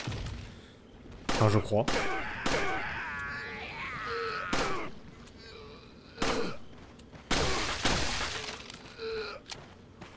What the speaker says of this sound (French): j'ai un pistolet qui peut transpercer plusieurs mecs aussi